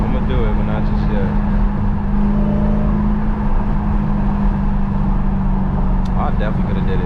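A 2019 Dodge Challenger Hellcat drives along, its low engine drone steady and continuous from inside the cabin, with speech over it now and then.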